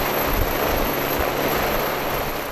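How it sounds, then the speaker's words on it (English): Helicopter bringing a pilot out to a large cargo ship at sea, its rotor and engine roaring steadily and loudly with a pulsing low throb throughout the short stretch, no talk. "the pilot, he would be arriving by helicopter."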